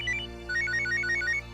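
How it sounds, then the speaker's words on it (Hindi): A phone ringtone chirps in quick electronic tones, a short burst followed by a longer repeating trill, clear and close over a low hum. "आ गया फोन मेरे चित्तू का।"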